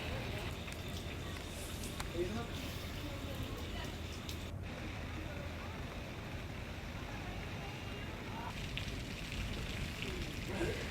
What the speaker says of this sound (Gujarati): 2 કલાકમાં સરેરાશ 2 ઇંચ વરસાદ ખાબકતા જનજીવન પ્રભાવિત થયું।